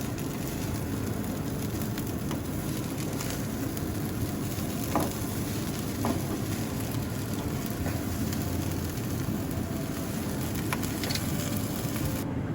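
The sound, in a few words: stirring rice with sugar and salt in pan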